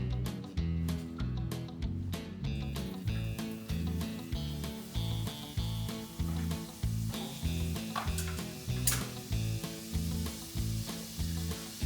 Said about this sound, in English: So I'm gonna add some butter to the pan.